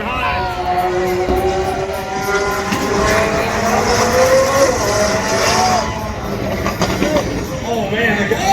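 A McLaren launches down the strip at a spectator drag race, its engine loud and close, revving upward in a rising wail across several gear changes while the crowd murmurs faintly behind.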